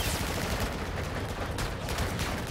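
Dense, continuous video game gunfire fills a search-and-destroy match, with overlapping shots and bursts blending into a steady wash of noise and no clear gaps or talk.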